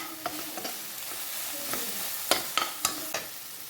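A spoon stirs crushed ginger, garlic and tomato ketchup in a pan, making soft scraping strokes and occasional clacks against the metal over a faint, steady sizzle.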